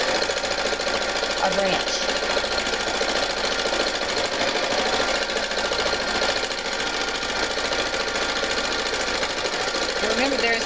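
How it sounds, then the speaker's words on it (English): A needle felting machine without thread or bobbin punches fibers onto fabric in a rapid, steady mechanical chatter, loud and continuous, with a voice speaking briefly over it. "we're going to go back to the felting machine"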